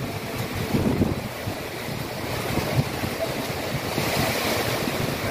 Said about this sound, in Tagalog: Nag-umpisa na yung lakas ng hangin at ulan